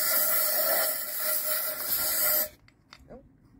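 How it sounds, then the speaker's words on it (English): Compressed air blasts out diesel from the parts of an old Crossley barn-find engine: a loud, steady hiss up close that stops abruptly, followed by a few faint clicks and quiet handling noise. "Now blow it out a bit again."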